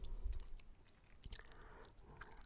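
Close, wet chewing of gum recorded on a binaural microphone, a few soft squishy bites and smacks heard alone at low volume.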